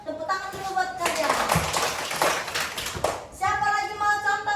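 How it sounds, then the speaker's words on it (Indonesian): Second-grade pupils clapping together in a classroom, a loud steady round of hand claps lasting a couple of seconds, with a teacher's voice before and after. "Tepuk tangan dulu buat kalian."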